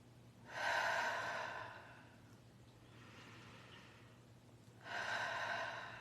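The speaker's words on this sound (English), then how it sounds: "I want you to put one hand on your chest, one hand on your belly, and I want you to breathe." Slow, deep breaths are taken close by in a quiet room: two long, airy inhale-exhale swells with a softer breath between, over a low steady hum.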